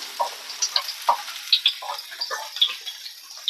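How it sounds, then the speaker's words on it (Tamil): Ridge gourd peel frying in leftover oil in a pan for a Tamil chutney, giving a steady bubbling sizzle dotted with sharp crackles and pops, close and moderately loud, with no voices. "அதை மீதி இருக்கிற எண்ணெயில் நல்லா வறுத்து எடுத்துக்கலாம்"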